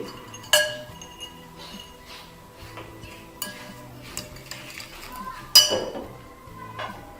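Raisins and shredded coconut tipped into a glass bowl for a sweet carrot and orange salad, giving sharp glassy clinks and taps, a few louder strikes standing out over soft kitchen clatter.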